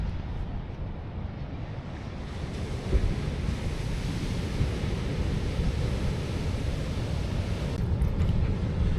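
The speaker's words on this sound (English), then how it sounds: "the surf here is super rough" Rough ocean surf at the beach, a steady heavy roar of breaking waves mixed with wind rumbling on the microphone, continuous and fairly loud with no talking.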